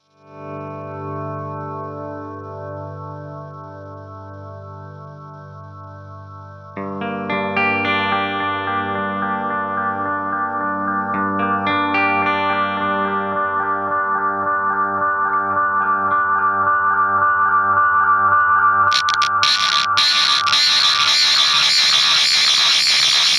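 Delay oscillation on a Fractal Audio FX8 pedal, sustained electric guitar tones building into a dense self-feeding drone of stacked repeats that swells louder and turns harsh and clipped near the end, with no voices over it.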